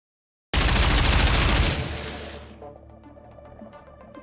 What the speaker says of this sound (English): Bullets strike the spot where Unwa was standing.